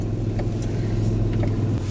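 A car pulls away from a large Pennsylvania Dutch buffet complex: a steady, fairly loud engine rumble and road noise heard from inside, constant throughout with no talk.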